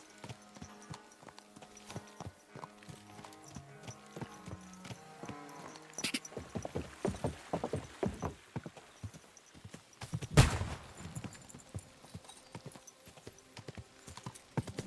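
Horse hooves clip-clop in the medieval video game Kingdom Come: Deliverance 2, a steady walking rhythm at first that turns busier and louder, with one sharp louder impact partway through and no talking.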